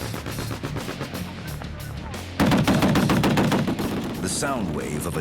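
M2 .50 caliber heavy machine guns fire in rapid bursts that swell into a louder, denser volley of about a dozen weapons at once, with a faint shout near the end.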